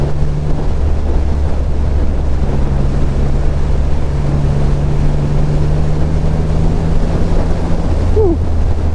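A Triumph Rocket 3 R Black Limited Edition motorcycle rides along a country road, its low, steady engine drone half buried under loud, constant wind buffeting.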